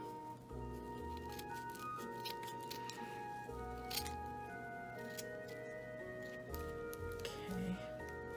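Scissors snipping craft material to shorten a pumpkin decoration, a few quiet cuts and clicks close by over a faint tonal background.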